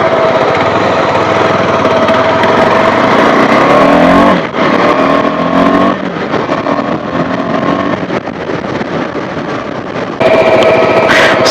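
Loud, continuous buzzing of a motorbike engine while riding on a solo trip toward Coorg, with wind noise and a brief dip in the middle before the drone resumes.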